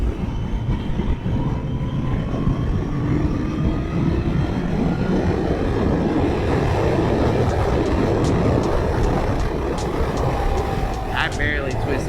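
Kawasaki Ninja ZX14 motorcycle pulling a fourth-gear roll-on, a loud continuous engine roar with heavy wind rush building steadily over about twelve seconds, with voices speaking over it.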